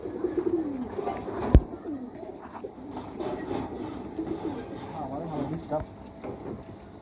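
Pigeons, including a black one, give soft low cooing calls close by, with a sharp knock partway through and someone talking over them.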